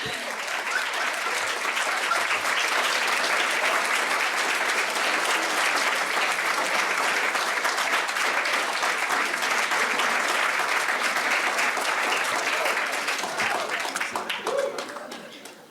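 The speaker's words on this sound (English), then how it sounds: "let's give one more round of applause for Amelia Kegan" Sustained applause from a large audience at a peace lobbying training event, dense and steady for about fifteen seconds before tapering off at the end.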